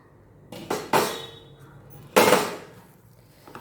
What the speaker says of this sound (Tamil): இப்போ மூடியை திறந்து பார்ப்போம்